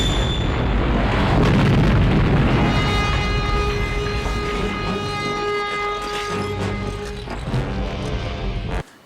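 A booby-trapped gas tanker blows up in the film Mad Max 2, a heavy boom and rumbling blast that fills the opening seconds, then fades into sustained tonal droning and scattered crashes before cutting off abruptly.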